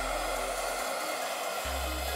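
A Vega Professional hair dryer blows steadily at close range, a continuous airy roar with a low motor hum that briefly drops away mid-clip before returning, with no voices.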